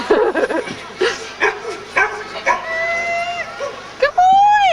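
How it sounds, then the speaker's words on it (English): A search and rescue dog barks and yips excitedly outdoors at a dog derby, several sharp close barks followed by a whining, whimpering call, with people talking over it. "Search and rescue dog."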